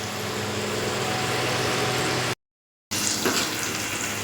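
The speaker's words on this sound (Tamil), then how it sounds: "இஞ்சி பூண்டு பேஸ்ட் போடணும் அதை போட்டு நல்லா வதக்கணும்" Ginger garlic paste sizzles in a pan for a Chettinad chicken gravy, a dense close frying hiss that cuts out briefly to silence and then resumes with light stirring.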